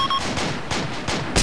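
Gunfire in a realistic military video game, a rapid burst of several loud sharp shots in quick succession, close and alone.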